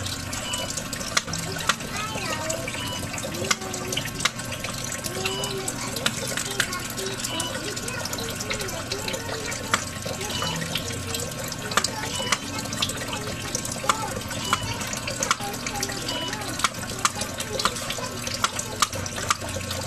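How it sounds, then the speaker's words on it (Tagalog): Water runs from a kitchen tap while garlic and onion are being prepared, a steady loud rushing stream that carries on the whole time, with a voice speaking over it. "buksan ko nga yung ano, tubig"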